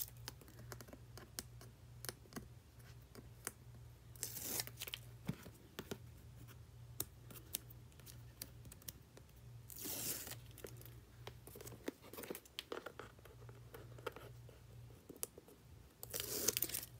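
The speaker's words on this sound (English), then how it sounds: "So let's go ahead and get all the tape off of here." Tape is peeled off a Dollar Tree plastic toy box, with a few rasping rips standing out over a background of faint scattered clicks and handling noises.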